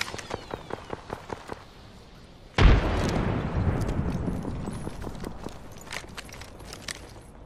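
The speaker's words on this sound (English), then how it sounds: "Frag out." A frag grenade explodes in Apex Legends, one sharp close blast after a run of quick footsteps, then a long rumbling, crackling tail fading under scattered clicks and steps.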